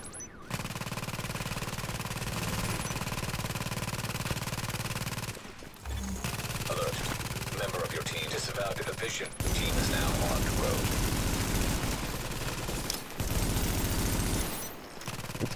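Sustained gunfire crackles through a firefight in Tom Clancy's The Division, dense bursts continuing with brief gaps, fairly loud, while players talk over it at times.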